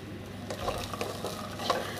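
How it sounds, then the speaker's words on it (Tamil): Vegetables and green peas are stirred and sautéed in a pan, giving a soft steady sizzle with scraping spatula strokes, fairly close and without talk. "அதையும் போட்டு நல்லா வதக்கி விடுங்க"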